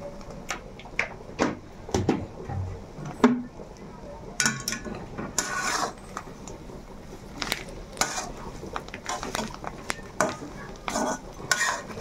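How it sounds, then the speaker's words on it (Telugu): Fish curry made with mayala fish is stirred in a pot, giving repeated scraping and clinking of a utensil against metal in uneven bursts, with a faint sizzle underneath and some talk. "నీట్గా నిదానంగా మొత్తం మిక్స్ చేసుకోవాలండి."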